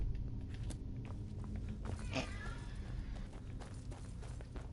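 A cat meows in a video game amid steady background game noise, a short call standing out near the middle, with faint footstep-like taps around it.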